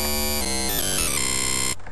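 A harsh, gritty dubstep synth bass growls continuously, its tone stepping and shifting through a few wobbling changes before stopping abruptly.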